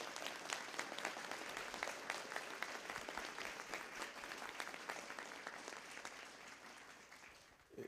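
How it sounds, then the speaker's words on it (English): Sustained audience applause at a wellness conference session in Fremont, California, a dense wash of many hands clapping steadily for several seconds, tapering off at the end. "Could we all have a round of applause for..."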